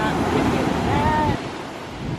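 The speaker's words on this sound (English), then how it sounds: "Oh, why are these waves so big like that?" Big ocean waves roll in along the coast of Bali in a steady roaring wash, with strong wind buffeting the microphone before the surf drops a little quieter.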